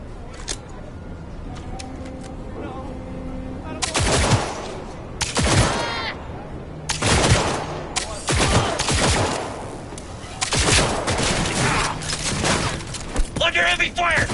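Heavy gunfire in Cyberpunk 2077, Night City, loud clustered bursts of automatic shots with sharp cracks and breaking debris, coming in waves across the scene while a voice shouts over the fight.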